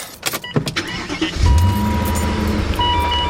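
A car engine cranks briefly and catches, settling into a steady, loud idle that carries on to the end, with no talking.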